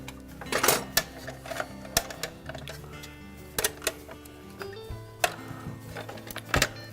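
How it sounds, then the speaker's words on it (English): Screws being tightened on a Frigidaire refrigerator during a drive blade repair, with sharp ratcheting clicks and taps that come in irregular bursts, some loud and close, over a faint steady hum. "Now, we'll tighten all of those screws"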